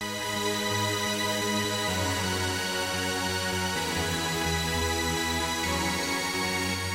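A lush Sylenth synth pad, preset nine from an EDM 2017 sample pack, plays sustained, wide chords that shift about every two seconds. It is loud, steady and stands alone.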